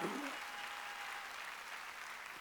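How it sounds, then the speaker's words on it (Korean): Church congregation clapping together during a Sunday Christmas-season worship service, a dense steady wash of applause that holds at an even level for a couple of seconds with no voices above it. "우리는 죽음 다음에 부활이 있는 걸 믿으면 박수 치라요"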